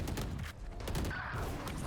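Rapid gunfire in the tactical shooter VALORANT, a dense broadband burst of shots loud and continuous throughout, with no talk over it.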